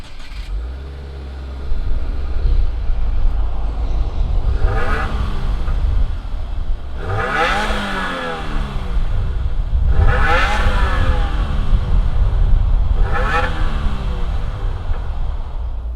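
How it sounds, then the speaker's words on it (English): A 2020 Subaru WRX Series White with a 2.5-liter engine starts with a low idle, then revs sharply several times, each rise and fall swelling loudly over a steady rumbling idle close by. "let's fire up this WRX and see what it sounds like."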